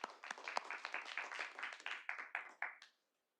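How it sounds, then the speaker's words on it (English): Applause from an audience at a Little Rock city board of directors meeting, a brief round of moderate, uneven clapping lasting about three seconds before cutting off. "Let's give them all a round of applause."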